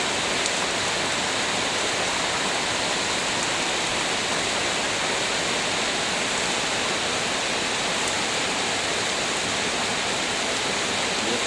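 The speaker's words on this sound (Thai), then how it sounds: "อตอนนี้ฝนก็ตกหนักนะฮะ" Heavy afternoon rain pours down steadily at a rural Thai home, a loud, dense, unbroken hiss of rainfall with no talk over it.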